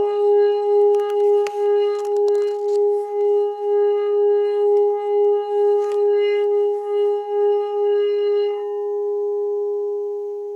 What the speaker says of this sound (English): I'm gonna play a ceramic bowl from Nepal.